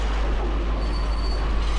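Rumbling train noise in the Max Payne video game as a train is driven into a crash: a steady, dense roar of rolling wagons with a faint high wheel squeal, loud and continuous with no talk.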